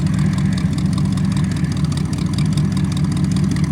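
A 1975 Ford F100 with a 302 V8 and cherry bomb true dual exhaust idles up on ramps, a steady, loud, close lope with a deep rumble throughout and no talk.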